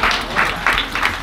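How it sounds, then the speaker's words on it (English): Clapping from a crowd at a faith gathering, loud and close, with rhythmic bursts of many hands beating together in a roughly regular pulse over a short span. "That deserves a clap."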